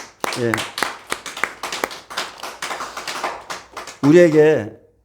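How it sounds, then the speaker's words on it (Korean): A congregation claps during a Wednesday Korean church worship service. The claps come as scattered, crisp taps over several seconds, with a voice rising briefly near the end. "하나님께 영광 박수 올려드립니다"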